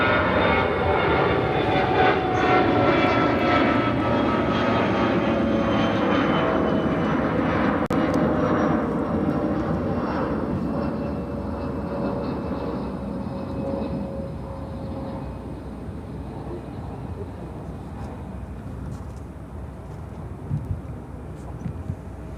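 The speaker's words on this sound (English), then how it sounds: "A350 pushing back." Etihad Airbus A350 airliner pushing back at Chicago O'Hare, with a steady, fairly loud engine roar and whine that slowly eases over the stretch, no talking over it.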